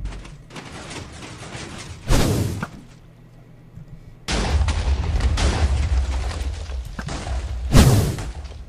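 Gunfire in the Zombie Siege video game: two loud, sharp blasts stand out about five seconds apart over a steady bed of lower game noise and rumble, with no talking.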